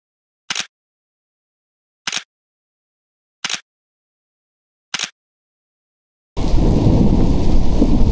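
Four short, sharp cracks arrive at spaced intervals against silence, then a loud, dense roar of heavy rain takes over and continues steadily to the end.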